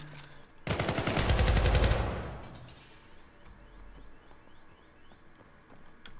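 Automatic gunfire in the video game Syndicate, one dense rapid burst of about a second and a half that fades into quiet ambient hum and faint clicks, with no speech.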